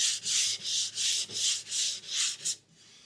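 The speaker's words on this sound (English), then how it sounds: "Letting the sandpaper do the work." Sandpaper rubbed by hand along the grain of a cherry wood side table, about seven even rasping strokes in quick rhythm, close up, then a brief pause at the end, no voices.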